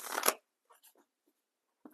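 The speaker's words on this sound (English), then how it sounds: "Hope you don't mind the live shuffle. I never shuffle off camera." A deck of tarot cards being shuffled: one quick riffle of cards up close, then a few soft taps and slides, and a sharp flick at the end. No voices are heard.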